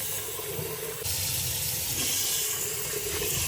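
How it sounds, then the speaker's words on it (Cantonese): Jasmine rice being washed in a pot with water, a continuous close splashing and swishing hiss of water sloshing through the grains, steady throughout with no talk. "而家就洗米大約3次"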